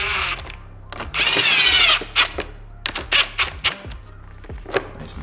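A power drill drives screws into plastic on an old KTM 150 SX dirt bike, with a sustained whirring run followed by several short, sharp bursts of the motor, up close and with no talk.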